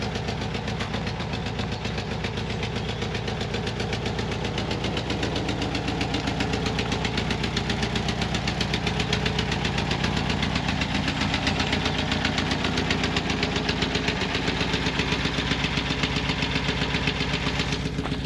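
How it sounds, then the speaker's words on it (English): A Volkswagen T2 Bay Window van engine idling with a steady, rattly mechanical clatter, close and continuous without any talking. "some people will not like that noise. A rattly engine."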